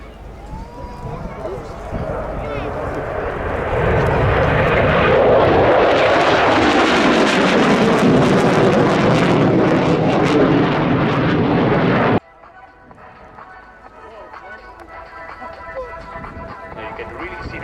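Aircraft displaying at the RAF Cosford airshow, a loud broadband jet roar building to a sustained peak before cutting off sharply, leaving fainter distant engine noise with a commentator talking over it.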